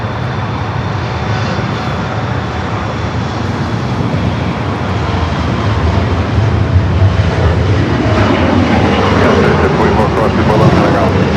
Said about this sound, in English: We do have that Air Tahiti Nui Dreamliner up next for arrival on the south.